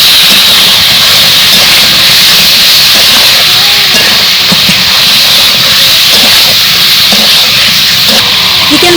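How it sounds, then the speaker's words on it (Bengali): Chicken fries in thick spice masala for chicken dum biryani, a loud, continuous close-up hiss and sizzle that stays steady for the whole stretch. "মশলা কষানো হয়ে গেছে এখন আমি মশলার ভিতরে চিকেন দিয়ে দেব দিয়ে আমি ভালোভাবে কষিয়ে নেবো"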